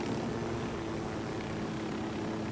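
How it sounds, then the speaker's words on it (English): Helicopter in the video game Ghost Recon Wildlands, a steady loud rotor and engine drone that holds constant throughout with no talk over it. "I freaking love helicopters."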